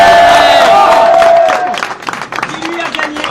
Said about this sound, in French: on applaudit quand même celui qui est arrivé second